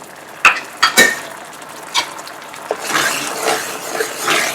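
Spice masala with Kashmiri red chilli frying in a pan, a close, soft sizzle and crackle under a few sharp clinks and scrapes of a spoon against the pan, with no talking.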